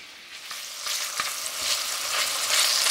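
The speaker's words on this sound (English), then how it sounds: "I'm going to saute some bacon or fry some bacon" Fatty bacon frying in a pan, a dense crackling sizzle that builds steadily louder over a few seconds, close and continuous with a few sharp pops and no talking.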